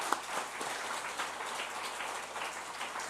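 A church congregation claps together in a dense, even patter that holds steady for a few seconds, heard from within a large room.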